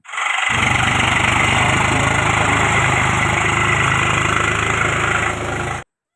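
A tractor engine rumbles loudly and steadily close by, cutting in abruptly and running evenly before stopping short.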